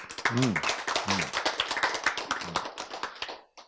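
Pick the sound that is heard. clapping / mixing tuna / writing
clapping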